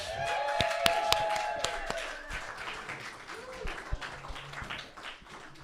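A small audience at a televised music show gives scattered, sparse clapping after a performance, mixed with whoops and cheers and a few nearby voices, fading toward the end.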